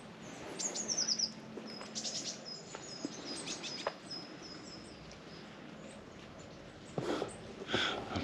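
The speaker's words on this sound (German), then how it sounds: "Gefühlt der ganze Baum voll mit Vögeln." Small birds chirp and tweet in quick bursts from a tree overhead at Arnsburg Monastery, Germany, several calls overlapping at first, then sparser high chirps against a quiet background.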